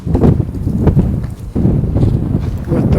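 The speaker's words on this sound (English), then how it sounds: "The wind is blowing pretty good up here." Cold wind gusts hard against a microphone on an early morning walk in Dartmouth, a loud, steady low rumble and buffeting that swells and dips, with a brief lull midway before it surges back.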